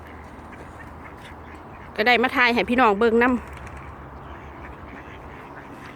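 A burst of loud, raspy duck quacks, several in quick succession, close by over a steady outdoor hiss; a voice speaks briefly at the start.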